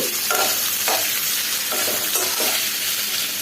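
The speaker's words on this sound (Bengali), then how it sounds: "আমি এখানে অলরেডি চুলায় চিকেনটা ভেজে নিচ্ছি" Chicken pieces fry in a pan on a stovetop for noodles, giving a steady, dense sizzle throughout with a few soft stirring scrapes rising briefly above it, close and loud, with no voices.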